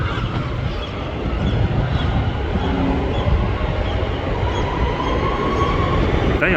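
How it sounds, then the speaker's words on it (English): Northern diesel multiple unit train at Preston station, a loud continuous diesel rumble and rolling rail noise with faint wheel squeal, heard close by and steady throughout. "Hearing the sound of a Northern DMU."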